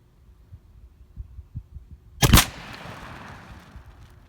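A 28 gauge shotgun with a super full choke fires a Winchester 1 ounce number 6 factory lead load outdoors, one loud close blast with a trailing rumble after faint low thumping, no voices.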